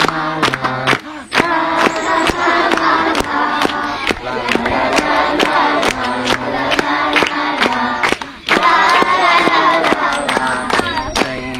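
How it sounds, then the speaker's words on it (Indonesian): Children at a Qur'an study class clap along in a steady rhythmic beat while singing loudly together, the regular claps cutting through the group voices with a brief pause midway. "Mari sambil tepuk tangan yuk"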